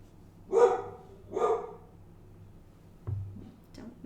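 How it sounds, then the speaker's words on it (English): Mochi, a female dog, barks twice in loud, close succession, then gives a softer muffled woof and a faint yip after a pause. "Don't know what she's barking at, but she's barking at something."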